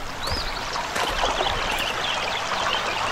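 A dirty object is dunked and swished in shallow outdoor water among rocks, giving a continuous close trickling, splashing wash with small gurgles, with no talking.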